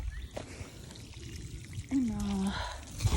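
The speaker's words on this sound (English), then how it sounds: "And now I'm going to water it down." Water is poured from above onto garden soil over freshly planted potatoes, making a faint splashing trickle in the second half that follows quiet outdoor background.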